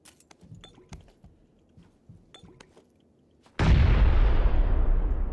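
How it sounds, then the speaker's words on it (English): A grenade blast in the PUBG battle royale game erupts as one loud, sudden explosion with a long rumbling decay, after a stretch of faint ticks and footsteps. "Alright, I'm gonna nade it."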